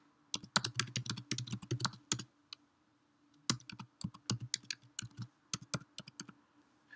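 Keys clatter on a computer keyboard in two quick bursts of close, crisp typing, with a pause of a second or so between them and a softer run of keystrokes at the end.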